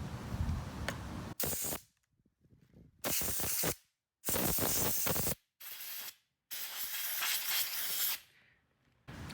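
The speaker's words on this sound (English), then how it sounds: "this I've already cleaned with an air compressor, well, most of it, but I'm going to show you and I'm going to do some more." An air compressor blows bursts of air to clean an RC car: roughly five loud, close hissing blasts separated by short silent gaps, each burst lasting about a second or more.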